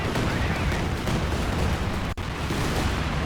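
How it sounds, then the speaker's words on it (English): Katyusha rocket barrage slamming onto Volksgrenadier infantry in a World War II real-time strategy match, a dense continuous roar of overlapping blasts and rumbling impacts at steady loudness, with one brief dropout near the end. "It's a great Katyusha strike on top of the Volksgrenadiers."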